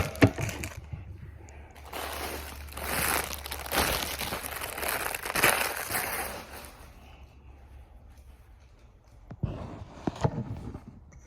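Crinkly plastic rustles and crackles up close as something is tugged out of a bag, busy for several seconds, then a brief final burst of crinkling.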